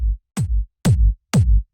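Tech house kick drum fattened with drum bus processing, four punchy deep thumps with a pitch-dropping click at the start of each, in a steady pattern with no voices.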